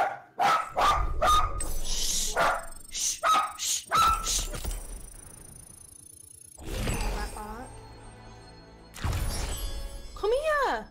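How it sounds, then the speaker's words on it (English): Several dogs barking loudly and repeatedly near an indoor game setup, sharp woofs clustered in bursts, mixed with a person talking over them. "Bloody noisy dogs woofing."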